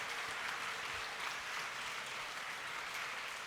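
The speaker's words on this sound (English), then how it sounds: "Let's give a round of applause to all the teachers." Faint, even applause from an audience honouring teachers at a school feast celebration, steady clapping that carries through without a break.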